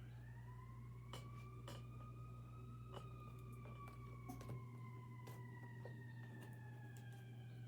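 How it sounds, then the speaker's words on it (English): A wailing siren rises and falls steadily in the distance outdoors, over a constant low engine hum, with no talking. "Let's hear that siren out there"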